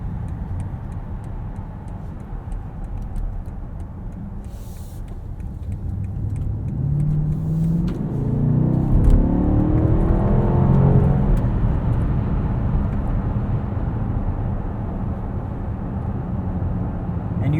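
A 2020 Alpina B7 xDrive with a V8 engine drives at speed, a low steady road and engine rumble that swells in the middle as it accelerates, heard from inside the cabin with faint ticking clicks.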